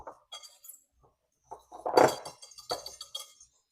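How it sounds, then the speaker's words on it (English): Dry cornbread ingredients with salt, for a Mexican cornbread salad, are stirred in a bowl. Scattered clinks and taps of a utensil against the bowl come in short bursts, with a fuller clatter near the middle. No one talks. "we'll just go ahead and get the dry ingredients mixed together"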